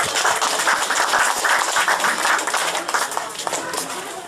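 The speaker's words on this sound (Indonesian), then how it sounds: "berikan tepukan" Applause from an audience at a Kaamatan harvest festival family day in Kampung Lubong, Tambunan, a steady dense patter of clapping lasting throughout, mixed with crowd noise and some talk.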